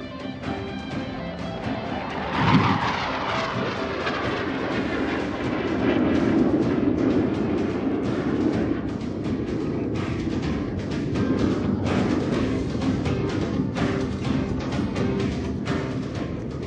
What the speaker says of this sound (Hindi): हिंदुस्तान एरोनॉटिक्स लिमिटेड द्वारा विकसित हॉक मार्क 132